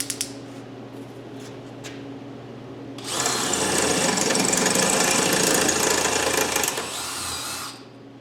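A power drill with a sharp bit bores a pilot hole up to a quarter inch through thin, soft metal on a curio cabinet, a loud steady whine that starts abruptly, holds for about four seconds, then eases off and fades.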